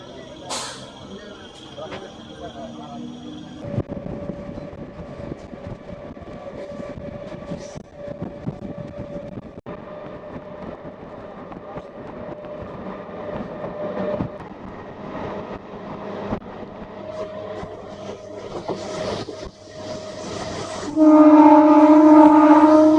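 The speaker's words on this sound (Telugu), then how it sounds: "తొండైబావి స్టేషన్ నుంచి మన ట్రైన్ బయలుదేరింది" A Hindupur to KSR Bengaluru MEMU train rumbles along steadily from inside the coach, with a continuous rattling hiss, a sustained tonal hum, and a loud horn-like blast near the end, voices faintly present throughout.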